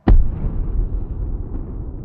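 A sudden loud boom marks the explosion of Chernobyl Reactor 4, one sharp blast at the start that decays into a long low rumbling roar.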